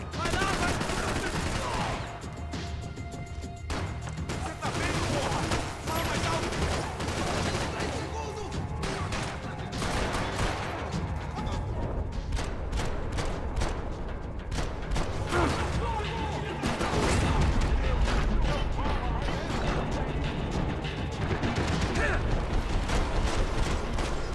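Gunfire crackles through a Max Payne 3 shootout in a New York setting, with dense bursts and repeated sharp shots and mechanical clatter over a steady noisy backdrop.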